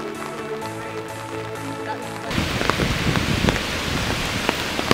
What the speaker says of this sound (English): it was still pouring with rain